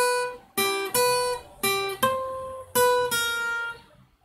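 Guitar playing a short passage of plucked notes in distinct groups, each note ringing clearly and decaying, played solo at close range with no talking.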